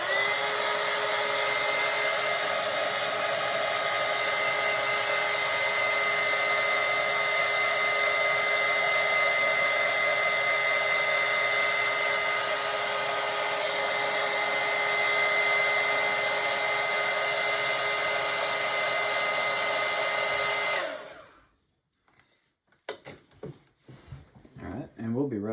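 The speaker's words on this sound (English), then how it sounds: "So let me heat set this real quick so everything's good and dry." A heat gun runs with a loud, steady blowing whir for about twenty seconds while drying paint on a fishing lure, then cuts off, leaving quiet handling noises.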